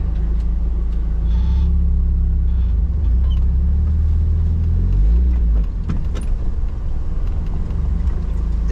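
Mazda Miata with a welded differential rolls along a quiet back road, a steady low engine rumble holding close and loud, easing off and roughening near the end as the car moves over the surface.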